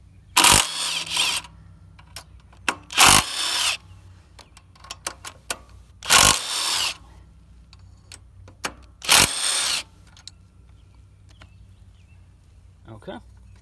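Head bolts on a Predator 212 Hemi small engine are loosened with a power tool in short, loud bursts, four main whirring runs separated by quiet gaps, with scattered clicks and clanks of tools between them.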